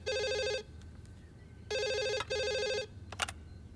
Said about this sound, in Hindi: हाँ कुमार, काफी बार फोन किया तुमने